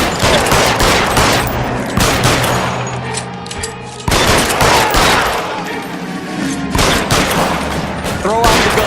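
A loud L.A. Noire shootout: rapid overlapping gunshots and bursts crack in dense volleys, briefly easing midway before another barrage erupts, with faint voices buried under the fire.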